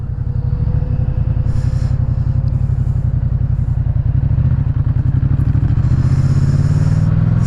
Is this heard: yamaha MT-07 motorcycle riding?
yes